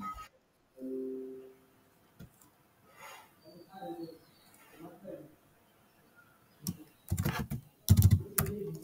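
Keys clack on a computer keyboard while text is typed into a Canva design, with sparse clicks among stretches of talk and a denser, louder burst of typing near the end.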